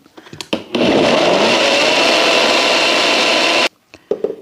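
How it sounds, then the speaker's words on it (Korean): A kitchen blender finely grinding apples without water for apple syrup, starting with a few clunks, then a loud steady whirring roar for about three seconds before cutting off into clatter. "주스를 하시려면 진짜 곱게 갈아 놓으셔야 돼요"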